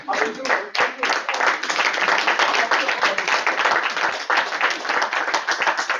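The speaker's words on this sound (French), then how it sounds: "Qu'on applaudit." Sustained applause from a Toastmasters club audience, dense and steady clapping for several seconds with a murmur of voices mixed in.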